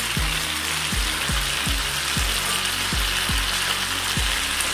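Previously fried vegetable stems go into a hot pan, where a loud, continuous hiss of frying runs throughout with regular low thumps every half second or so.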